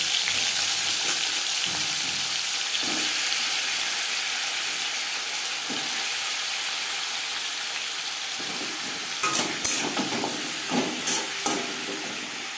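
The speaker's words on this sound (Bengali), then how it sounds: "পাঁচফোড়ন ভেজে নেওয়ার পর দিয়ে দেবো কুমড়ো" Pumpkin pieces fry in hot oil with panch phoron, giving a steady, fairly loud sizzling hiss throughout, with a few sharper stirring clatters near the end.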